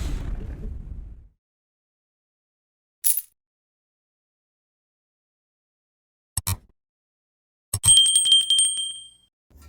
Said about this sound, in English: don't forget to ring that dinner bell